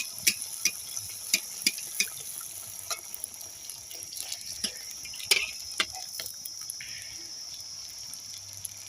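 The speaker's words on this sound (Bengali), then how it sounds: "আমি একসাথে তিনটে ভেজে আপনাদেরকে দেখাচ্ছি" Suji potato luchi frying three at a time in hot oil over a high flame, a steady bubbling hiss with scattered sharp pops and crackles spread through the whole stretch.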